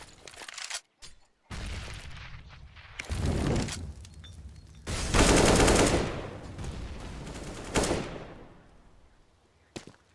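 Bursts of automatic rifle fire on the Inferno map in a competitive Counter-Strike match, several sharp volleys of differing length separated by short pauses, loud and close, with no talk over them.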